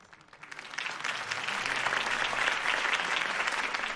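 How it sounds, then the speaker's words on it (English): Crowd applause swells after a political campaign speech by Harvey Dent in the Telltale Batman game, building from a light patter into steady, dense clapping that holds for several seconds without voices over it. "If only Mr. Wayne, my campaign's largest backer, could have heard that applause"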